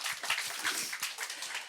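A fairly quiet, brief round of audience clapping at a humanities talk-show concert for office workers, with individual claps distinct in a loose, quick patter lasting under two seconds.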